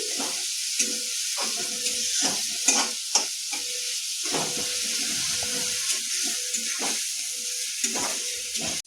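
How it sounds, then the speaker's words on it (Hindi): Onion and crushed garlic frying on high heat in a pan give a constant, close, hissing sizzle, with irregular stirring knocks and scrapes throughout. "तेज आंच पर भुजैत 3 से 4 मिनट भ गेलै। आ प्याज लहसुन बढ़िया जकाँ भुजा गेलै।"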